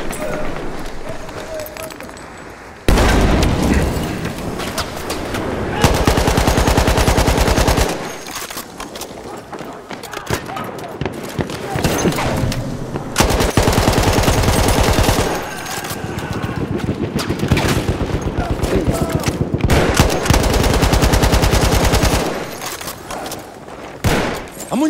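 Bursts of rapid automatic gunfire and grenade explosions in the video game Battlefield 1 alternate with short lulls, loud and close, with shouting voices mixed in.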